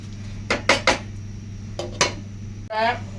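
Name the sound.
lid being placed on a cooking pot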